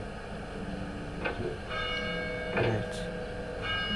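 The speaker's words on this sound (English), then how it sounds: "I can hear church bells." Church bells ring several times in the video game Getting Over It with Bennett Foddy, at an even, moderate level with faint background noise. A voice says a single word partway through.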